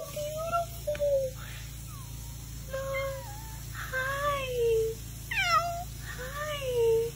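A tiger-striped cat meows repeatedly, about eight short rising and falling calls spread evenly, close and clear over a low steady background hum.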